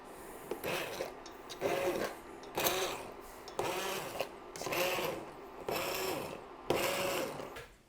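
A blender purees cooked onions and peppers for Mexican salsa in repeated short pulses, about seven whirring bursts of roughly half a second each with brief pauses between them, moderately close and not very loud.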